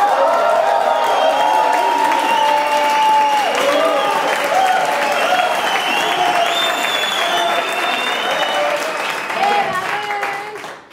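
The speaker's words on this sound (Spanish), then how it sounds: "ustedes le van a dar el mejor aplauso y la mejor porra y lo mejor que puedan" Audience in a church or religious gathering gives loud, sustained applause mixed with cheering and whistles, a dense wall of clapping with a few shouted voices rising above it, fading near the end.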